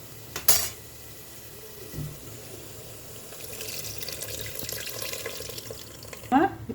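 Tamarind water poured into a pot of half-cooked yellow cucumber dal makes a steady, moderately loud splashing rush for a few seconds, framed by sharp clinks of a utensil against the pot.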